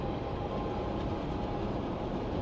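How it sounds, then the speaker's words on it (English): A train rolls past in the hunting video game theHunter: Call of the Wild, giving a loud, steady, close rumble of wheels and cars with a faint clatter and no talking. "I see you got the train in there too"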